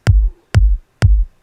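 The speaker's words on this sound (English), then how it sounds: "this is, if we put the kicks in their native form, sounds like this" Two layered kick drums sound out of phase, giving three evenly spaced, punchy low thumps with short decays. They play loud and alone, with nothing else in between.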